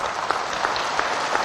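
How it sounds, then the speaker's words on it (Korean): Brief burst of dense applause from a gathered audience of church-affiliated leaders, many hands clapping at once in a steady even wash. "박수 한번 하시지."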